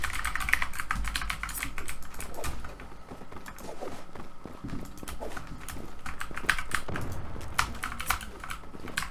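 Rapid computer keyboard typing mixed with mouse clicks during a Zula online shooter match, a dense, steady stream of close, crisp key taps throughout with no voices.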